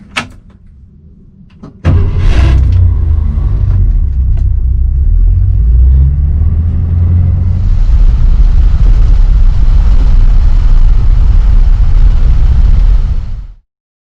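A car starts up and drives along steadily, its engine rumble and road noise loud and continuous for most of the stretch before cutting off abruptly at the end, with no talk.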